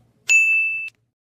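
A single clear notification bell dings once, bright and sustained for about half a second before cutting off cleanly.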